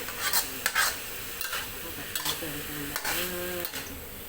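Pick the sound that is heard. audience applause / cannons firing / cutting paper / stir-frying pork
stir-frying pork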